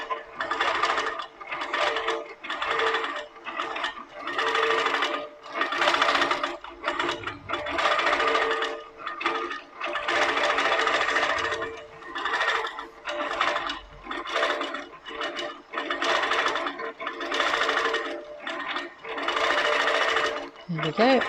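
A computerized longarm quilting machine with Pro-Stitcher Lite stitches out a design, its rapid needle chatter pulsing in steady bursts with brief pauses, close and loud throughout.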